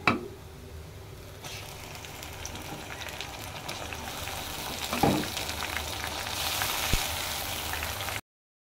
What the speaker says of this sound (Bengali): এখন দিয়ে দেব এখানে পেঁয়াজ, আদা, রসুন ব্লেন্ড করা।